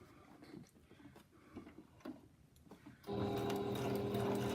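Fitted with a free motion quilting foot, a sewing machine stitches straight along the edge of a fabric piece. Quiet handling and rustling come first, then the motor starts up with a steady, fast, close mechanical whir.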